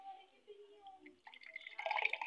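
Tender coconut water is poured into a glass for a lime drink, a soft liquid trickle that swells into a fuller splashing pour toward the end, with a person talking over the start.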